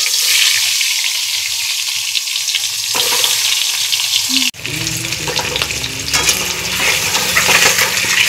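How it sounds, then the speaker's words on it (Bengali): Eggs fry lightly in hot oil in a pan, a loud continuous sizzle and crackle, with a sharp clatter about midway followed by a busier, bubbling fry. "এবার আমরা ডিমগুলো ভেজে নেব।"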